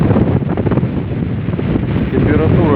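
Strong wind of about 20 m/s around a tent in a winter village, roaring and buffeting the microphone loudly and continuously with no letup.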